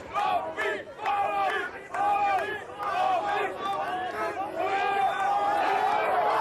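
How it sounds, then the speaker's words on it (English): A strongman competition crowd in Hungary, many Dutch visitors among them, shouts loud rhythmic chants of support for a competitor, the cheering sustained and close with a commentator's voice over it. "The crowd is shouting Ab on"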